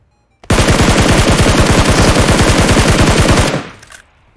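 Automatic gunfire in PUBG Mobile rattles out as one loud, rapid, evenly paced burst of around three seconds, close and alone.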